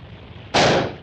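A single loud cartoon gunshot fired at a rope in a Donald Duck short, a sudden sharp blast after a quieter lead-in, decaying quickly.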